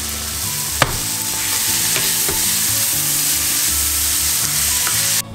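Sautéed courgettes sizzling in a hot pan as freshly cut basil is stirred through, a steady loud frying hiss with scraping stirs and a sharp utensil knock near the start.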